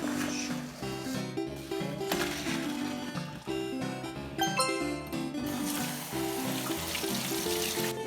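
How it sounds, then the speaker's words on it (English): Noodles go into a pot of boiling water in a kitchen, with steady running and splashing water noise lasting several seconds and light clinks of metal. "Put them in the boiling water like this."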